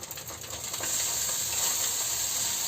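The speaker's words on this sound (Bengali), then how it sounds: "এবার সেদ্ধ চাউমিনটা দিই" Boiled chow mein noodles land in a hot pan, giving a soft rustle that swells into a steady, bright sizzle after about a second, close and fairly quiet with no talk.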